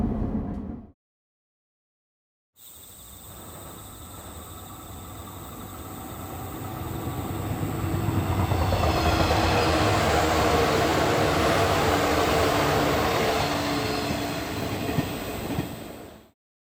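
A train in the Minecraft RealTrainMod game runs steadily, with a continuous rolling rumble and rail clatter that swells in the middle and fades at the end, heard alone after a brief silence.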